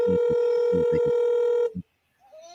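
Telephone dialing a number: a steady dial tone under rapid DTMF key beeps, loud and close. The line cuts off, then brief faint tones follow.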